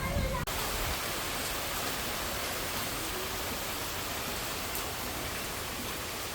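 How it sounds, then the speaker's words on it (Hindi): Steady rain falls in a home garden while the sun is out, a constant broadband hiss that fills the whole stretch, fairly close and even, with a brief knock near the start. "बारिश और धूप एक साथ हो रही है।"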